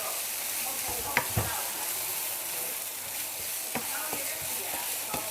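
Steady oil sizzling from eel stir-frying in a wok, with occasional sharp scrapes and taps of a utensil stirring the pan.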